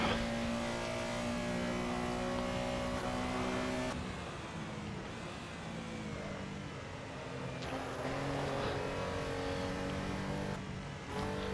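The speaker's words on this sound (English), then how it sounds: "We're about to start our first quali lap." A racing game car's engine drones loudly and steadily through a qualifying lap at Buenos Aires, a sustained high whine with harmonics that dips and swells as the car brakes and accelerates, with no pauses.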